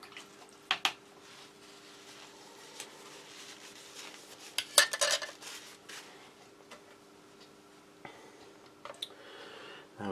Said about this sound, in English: Wash my spoon again.